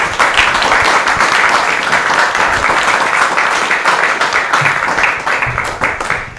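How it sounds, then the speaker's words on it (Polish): Sustained applause from a lecture audience in a hall, dense and steady clapping for the doctor who gave a talk on medicine and civilisation diseases, lasting throughout at even loudness. "Panie doktorze, serdeczne brawa dla Pana."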